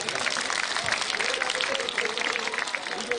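A crowd at an outdoor political rally claps in a busy, continuous wave, loud and close. Voices in the crowd run under the applause the whole time.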